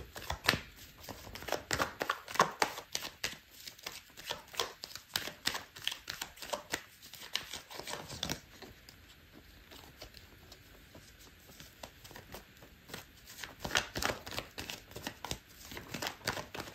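Tarot cards being shuffled and handled during a reading, giving a run of quick soft riffles, taps and flicks that come in bursts and pauses, close by with no talking.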